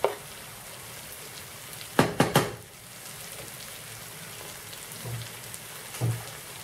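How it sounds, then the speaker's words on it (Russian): Beans sizzle in a frying pan for a pasta-and-bean dish: a soft, continuous crackling hiss, with a quick cluster of utensil clinks and stirring knocks partway through. "Фасоль начала поджариваться."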